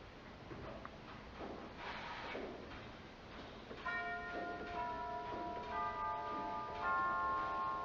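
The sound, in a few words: pipe organ chime rank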